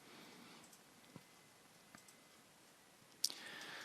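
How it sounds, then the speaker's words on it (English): A computer mouse clicks while someone works through a Microsoft Teams menu, producing a few faint, sparse clicks spaced apart in a quiet room, the last one slightly sharper. "You see I'm over here clicking the little drop down arrow"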